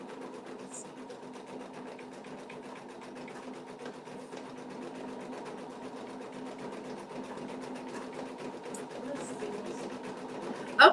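Home embroidery machine stitching out a mug rug, a steady fast needle chatter and motor hum running continuously at moderate level, close by, ending in a brief louder clack.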